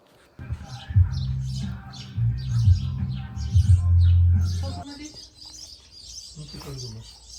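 Birds chirp and tweet in high, scattered calls outdoors in a Russian village, with a low voice-like rumble underneath for much of the time.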